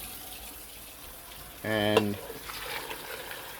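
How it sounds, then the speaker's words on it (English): Tap water running into a cooking pot in a kitchen, a brief gush of about half a second that stops abruptly, with a spoken word over it and quiet room tone around it. "We're going to fill this with water."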